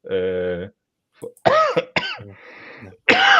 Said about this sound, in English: I wasn't coughing before I came on the stream, and now it's killing me